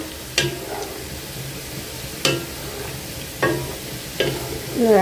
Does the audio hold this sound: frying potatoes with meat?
yes